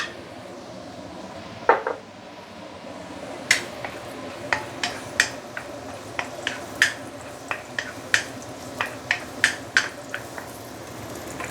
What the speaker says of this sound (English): Let's saute the mushroom.